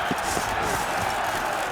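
In The Witcher 3: Wild Hunt, a crowd roars and clamours in a steady, dense wash of massed voices, moderately loud and continuous, with no single voice standing out.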